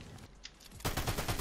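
Automatic gunfire from a competitive shooter game: a few scattered shots, then a loud, rapid burst of rattling fire in the last half second, close and sharp with no talk.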